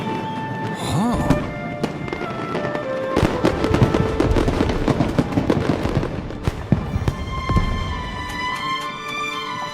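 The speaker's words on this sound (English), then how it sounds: "A fireworks show?" A fireworks show in the video game Genshin Impact, with a rush of bursting crackles and booms building into a loud, dense barrage over background music and whistling tones, then easing off.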